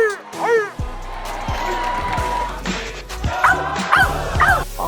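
A dog barks and yips several times in quick bursts, loud and close, over a noisy crowd background.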